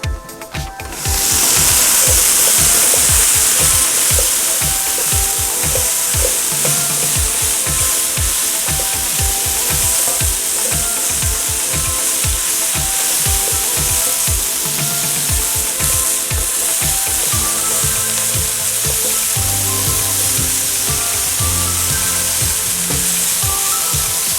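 Potatoes and broccoli sizzle steadily in a hot pan for garlic parmesan broccoli and red potatoes, a loud continuous hiss broken by clattering stirs and scrapes of a utensil against the pan.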